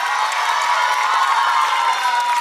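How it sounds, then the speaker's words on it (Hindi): A concert crowd in Siliguri cheers and shouts loudly and steadily, with a dense wash of excited voices and some clapping blended in. "तालियां तो बजा दो"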